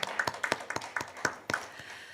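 Scattered, sparse hand claps from a church congregation at an Easter evening service, a few uneven claps at moderate volume.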